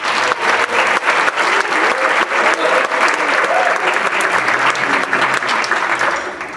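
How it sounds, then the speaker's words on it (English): Steady, dense applause from a high school jazz band concert audience honoring the drummer, loud and sustained throughout before tapering slightly at the end. "so we'll give him a round of applause."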